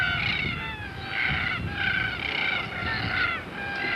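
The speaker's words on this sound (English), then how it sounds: "black cockatoos." Large black cockatoos with red tail markings, in a flock in flight near sorghum in Cape York, give repeated harsh, honking calls in loose bursts that carry over steady background noise, with no talk.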